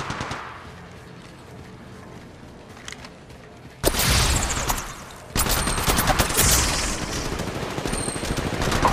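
Rapid gunfire in Apex Legends during a ranked match: quieter scattered shots, then two loud, sustained bursts of automatic fire crackling close by.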